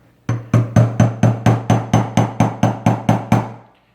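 A hammer taps a flathead screwdriver to tighten a castle nut, about a dozen sharp metallic strikes in a steady, even rhythm, loud and close, with no voices.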